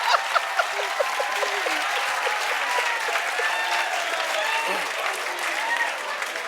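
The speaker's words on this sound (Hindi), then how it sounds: "भाई एक बार सर के लिए ताली बजा दो तब चुप होंगे।" Students in a classroom clap for their teacher, a dense, steady round of applause that stays loud for the full stretch, with a few voices audible beneath the clapping.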